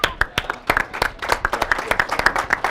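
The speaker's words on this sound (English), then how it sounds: "just a round of applause to all of you guys, to Patty and Liz and everyone who came out" Audience at a Green Bay charity event claps with sharp, irregular hand claps, close and fairly loud, over faint crowd murmur and some speech.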